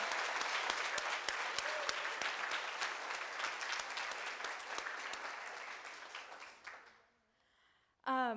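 A crowd applauds performers at a poetry event with a long, full burst of clapping that stays steady, then fades to near silence around seven seconds before a sudden loud noise cuts in at the end.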